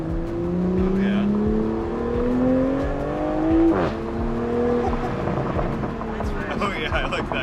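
Modified exhaust on a Toyota GR Supra 3.0 gurgles and rises in pitch as the car accelerates on a street drive, loud and close, with a brief crackle midway and people talking over it.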